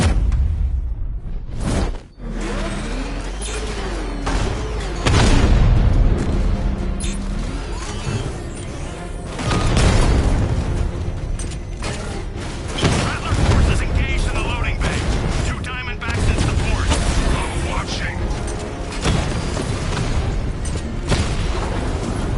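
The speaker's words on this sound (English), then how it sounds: "Your 60mm cannon will penetrate these heavily armored units, but it'll take a few direct hits to destroy them." Heavy booms and explosions in the Batman: Arkham Knight video game, from a 60mm tank cannon firing at armored units. The blasts hit loud and dense across the whole stretch, layered over game music and effects.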